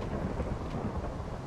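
Rain pours steadily while thunder rumbles throughout in a survival video game. The storm is a dense, loud wash of noise with no voices over it.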